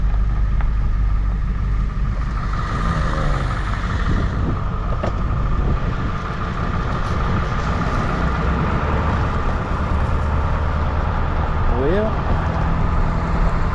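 A Ford F-450 truck with a swapped 7.3 engine out on a test drive, a steady loud cabin rumble of engine and road noise throughout, with a voice speaking over it.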